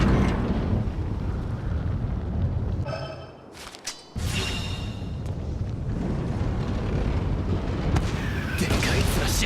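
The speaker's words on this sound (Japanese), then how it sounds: "よし、固定砲台から砲撃を食らわせてやる。" Fixed cannon artillery fire in Attack on Titan: Wings of Freedom booms heavily amid dense, roaring battle noise, with a brief lull before the loud rumble resumes and voices speak over the din.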